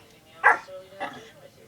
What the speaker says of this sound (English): You see how she's barking towards my hands instead of towards my face?